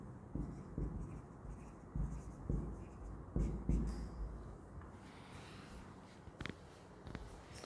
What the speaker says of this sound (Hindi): यहाँ पर इस इक्वेशन को हम लिख के छोड़ देते हैं।